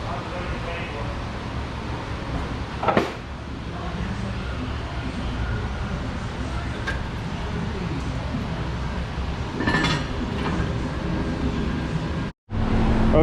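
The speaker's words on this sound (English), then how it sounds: "Okay, Jeep, we're taking you for a ride." An old Jeep Wrangler 4x4 with a 4.0 engine, its suspension just rebuilt, drives along with a steady, broad engine and road roar heard from inside the cabin, punctuated by a few brief knocks and a short dropout near the end.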